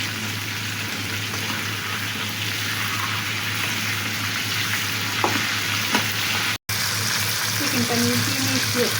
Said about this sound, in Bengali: চিকেনটা আমি এভাবেই ভেজে নেব